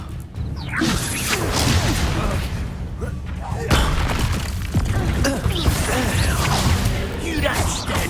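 An Incendio fire spell cast during a Hogwarts Legacy duel crackles and whooshes loudly, with bursts of roaring flame and clashing impacts amid chaotic combat noise, and voices talking underneath.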